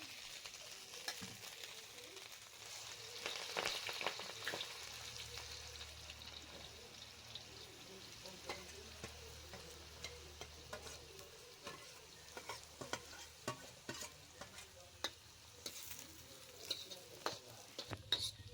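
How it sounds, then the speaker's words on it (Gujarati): Onions sizzle in a pan for Manchurian gravy, fried after a ginger, garlic and chilli paste, with a low steady crackle and repeated scraping stirs that grow busier toward the end. "હવે આને હું હલાવી ઘડીક એટલે આની ગ્રેવી બનશે."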